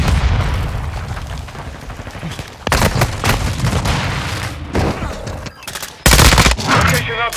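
Dense Modern Warfare 2 multiplayer gunfire on the Koro Village map, rapid automatic bursts and heavy booms layered loudly over several seconds, with brief lulls between volleys.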